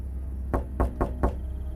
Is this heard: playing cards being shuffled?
no